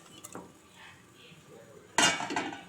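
Fried potatoes tip into a pot of water for duck curry, a short metallic clatter of pan and spoon that follows some faint clinks earlier on.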